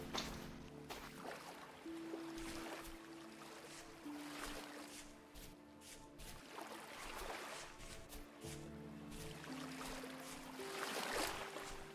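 Splashing and trickling water as a character wades through an icy stream in the survival game Vintage Story, faint and continuous, with soft sloshes and a low tonal music line underneath.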